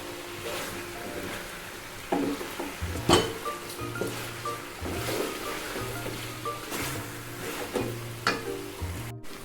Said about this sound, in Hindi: गरम मसाला हम साबुत जो है वो इसमें हम ऐड कर देंगे और गोश्त को हम अच्छे से फ्राई करेंगे।